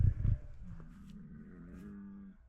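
Bull on a Montana farm in winter lowing once, a drawn-out low moo of moderate loudness after a couple of thumps.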